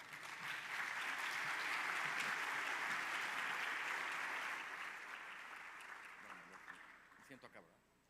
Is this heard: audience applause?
yes